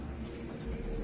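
A pigeon coos in a racing pigeon loft, a brief soft murmur close by over a low background hum.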